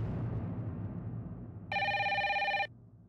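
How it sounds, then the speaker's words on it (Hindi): A telephone bell rings in a single steady burst of about one second, loud and clear over a quiet low room hum in a household setting. "बीनू का फोन होगा।"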